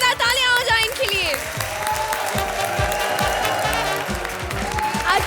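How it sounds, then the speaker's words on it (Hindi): Loud studio audience applause for guest cast members on a Hindi TV comedy show, dense clapping with some cheering, sustained throughout and strongest at the start. "जोरदार तालियां हो जाए इनके लिए।"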